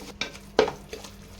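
Yogurt being stirred into biryani masala in a pot for a rustic Kerala biryani, heard as a few sharp clinks and scrapes of a spoon against metal, close and brief with quiet gaps between.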